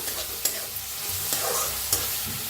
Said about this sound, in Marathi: बारीक असा कांदा कापायचा, चांगलं भाजून घेऊया कांद्याला बी.